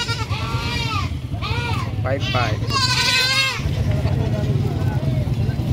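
Goats bleating at a livestock market in San Carlos, several wavering bleats close by in the first few seconds over steady crowd murmur, with someone talking throughout.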